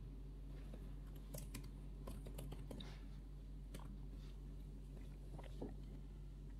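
Soft, irregular key clicks from typing on a Mac computer keyboard, quiet and close, over a steady low hum.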